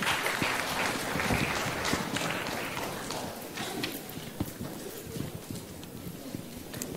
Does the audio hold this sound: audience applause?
yes